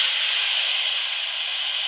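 Loud, continuous hissing sizzle as tamarind water hits a hot pan with fried chillies and spices for besan bora tok, a steady steamy spray with no pauses.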